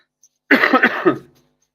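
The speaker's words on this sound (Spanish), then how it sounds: "Perdón por la tos" A single close, harsh cough burst of several quick rasping pulses, loud and sudden against near silence.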